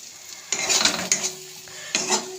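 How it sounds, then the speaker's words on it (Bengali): Chicken masala with cumin and coriander powder fries in oil in a pan, with a soft sizzle under loud repeated scrapes and clinks of a spoon stirring against the metal. "আবার একটু ভাজবো।"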